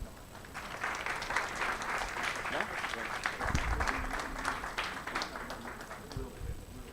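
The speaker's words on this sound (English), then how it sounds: "Je vous demande de l'accueillir et de l'applaudir." An audience at a Worldwide Freedom Initiative gathering applauds to welcome Nicolas Dupont-Aignan, sustained clapping at moderate distance with a few low thumps and faint voices mixed in.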